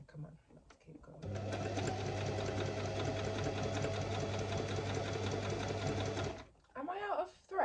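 A beginner runs a sewing machine to alter clothes, producing a loud, steady motor-driven stitching buzz for about five seconds that starts and stops abruptly, with brief talking before and after.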